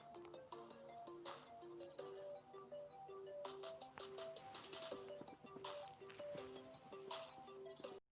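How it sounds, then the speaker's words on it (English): A phone's notification ringtone chimes repeatedly in bright, plinking melodic notes, looping over and over without pause, fairly close and clear with no talking. "I thought I turned Do Not Disturb on. I don't think it's working. So I'm still getting notifications."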